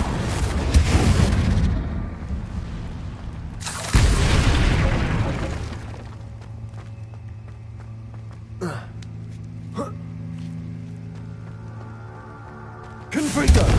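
Confringo spells detonate in the video game Hogwarts Legacy: two loud blasts with rumbling decay open the scene, quieter game sounds and a voice follow, then another blast hits at the end.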